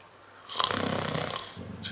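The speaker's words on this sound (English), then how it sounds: "Snoring. That's what it is." A person snores once, a long, rough, rattling breath close by, rising and fading over about a second in an otherwise quiet room.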